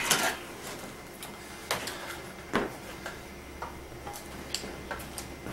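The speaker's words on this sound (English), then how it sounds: "So, grab a spare magazine here." A spare AR-15 carbine magazine is grabbed during a speed reload, giving a few sharp ticks and light plastic-and-metal clicks spread across a quiet room with no talk.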